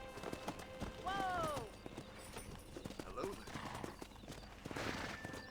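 Horse in the Western video game Red Dead Redemption clip-clops along with steady hoofbeats, letting out a brief whinny early on, while a voice talks over the game audio.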